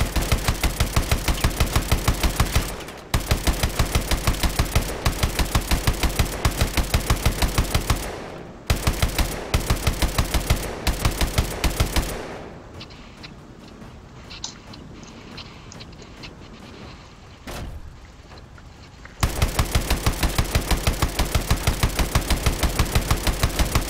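A main gun in Call of Duty Advanced Warfare fires in long, loud rapid bursts with a few brief pauses, then breaks off for several seconds of quieter background before the heavy automatic fire resumes.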